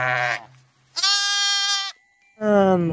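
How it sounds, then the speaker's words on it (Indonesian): A sheep in the dinosaur-park game Jurassic World Evolution 2 bleats three times, long and wavering with brief gaps between, loud and clear with no voice over it. "ini ada domba teman-teman."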